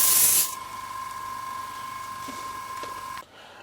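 A Hseng x Sparmax airbrush spraying paint, a brief loud hiss at the start, then a steady thin whine until it cuts off.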